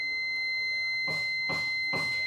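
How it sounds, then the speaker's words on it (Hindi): A multimeter set to continuity range gives three short, clear beeps at even intervals during an LG TV 19V SMPS adapter repair, under a faint steady high-pitched electronic whine. "मल्टीमीटर को कंटिन्यूटी रेंज में रखता हूँ अगर आपको बीप साउंड मिले तो समझ लीजिएगा कि ऐसा ही है"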